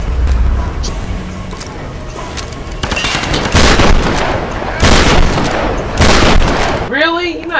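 Gunfire in the video game Tomb Raider Definitive Edition comes as loud, repeated bursts of rapid shots with heavy booming impacts. Several distinct volleys are separated by brief lulls.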